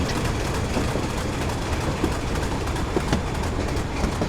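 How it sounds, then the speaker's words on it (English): A train coasting on rails with power idled in Train Simulator 2015, a continuous rolling rumble with occasional clicks of wheels over rail joints, steady and fairly loud throughout. "I've idled the power to allow the train to coast"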